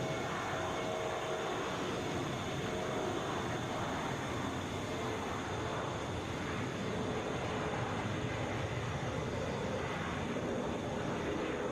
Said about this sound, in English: This is Delta 2681 headed for Madison, Boeing 717.